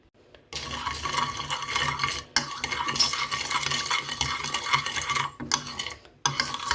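Yeast being stirred into slightly warm water for a stovetop chicken pizza dough, a steady close scraping and swishing of a spoon against a bowl with a few short pauses, no voices.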